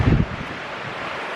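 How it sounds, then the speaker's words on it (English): Strong wind buffets the microphone outdoors on a sunny day near a castle, a loud low gust at the start easing into a steady, breathy rush. "It is quite sunny outside, but it's also very windy."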